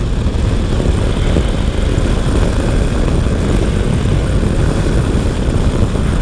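A Honda motorcycle riding along a road through the Savannah National Wildlife Refuge, its engine a loud, steady drone mixed with constant wind buffeting and no pauses.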